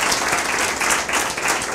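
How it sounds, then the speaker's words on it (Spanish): A church congregation applauds in a brief, dense burst of clapping with no voices. "Denle un aplauso gozoso al Señor."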